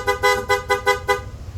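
Horn of a Yamaha NMAX V2 scooter sounds five short, evenly spaced beeps, loud and close, then stops, leaving a low idle hum underneath.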